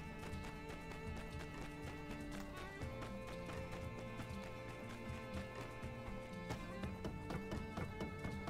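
Rapid rhythmic horse hoofbeats clop along over busy, continuous music and ambience from the video game My Time at Sandrock, with an occasional whinny.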